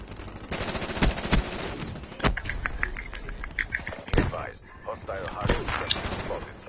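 Repeated flashbang grenade blasts and gunfire in Black Ops 3, dense sharp bangs going off in quick succession under excited talk from a player.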